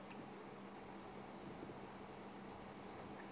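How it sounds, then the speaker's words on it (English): A cricket chirps at night on a safari drive, sitting somewhere off to one side. Soft, repeated trilling bursts sound fairly faint over a quiet, low background hum. "that cricket that is somewhere to the left of us"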